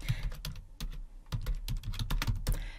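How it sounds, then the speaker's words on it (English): Keys clatter on a computer keyboard as a web address is typed, a close, uneven run of crisp clicks in quick bursts with short gaps, with no voices. "we are first going to type the URL pabbly.com/connect."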